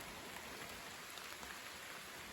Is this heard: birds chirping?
no